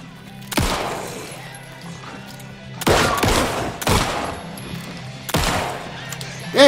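Four heavy gunshots go off at irregular intervals in the horror game Alan Wake 2, each a sharp, loud crack with a short decaying tail.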